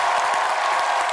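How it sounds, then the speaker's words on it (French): A studio audience applauding, a brief, dense burst of many hands clapping at a steady level, with no voices over it. "Applaudissez le public aussi"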